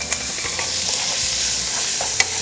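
Chili, green onion and minced garlic being stir-fried in a pan for spicy octopus, giving a steady, close sizzle with light stirring scrapes and a couple of sharper clinks.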